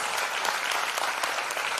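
Seminar audience at a women's entrepreneurship event giving a round of applause, a continuous, even wall of dense clapping, fairly loud and close.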